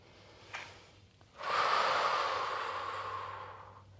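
Deep breathing during a Pilates lower-body stretch: a short sniff, then one long, loud, airy exhale that fades slowly over about two and a half seconds, close to the microphone, with no talking.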